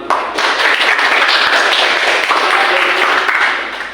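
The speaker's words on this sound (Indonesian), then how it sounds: "Tepuk tangan buat." Classroom applause for a student group's performance, a dense sustained patter of many hands clapping, loud and near, fading toward the end.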